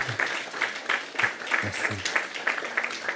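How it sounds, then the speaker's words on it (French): A church audience applauds during an evening service, with scattered, moderate clapping and a speaking voice heard over it. "On peut l'applaudir."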